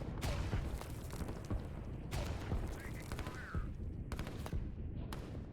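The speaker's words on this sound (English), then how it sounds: "There's quite a few infantry here and one artillery that is going to be firing at them" Battle sounds from the strategy game Line War, with infantry and an artillery unit firing: dense, continuous crackling gunfire and sharp reports, a few booms standing out, plus faint higher tones midway.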